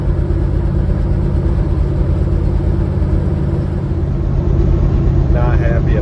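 A 1978 Ford Bronco engine runs after a carburetor swap, with a loose cylinder exhaust and a reported tick and deceleration pop. It gives a loud, close, steady churning rumble with faint irregular ticking and voices underneath.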